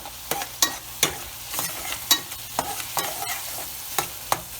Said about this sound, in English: Keep on stirring so that it doesn't get burnt on the bottom or stuck to the bottom.